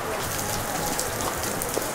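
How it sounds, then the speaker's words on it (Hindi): Rain falling at an open-air market in Nicaragua, a dense steady hiss of drops spattering on surfaces all around, continuous and fairly loud with no speech. "भाई बारिश और आ गई है यार"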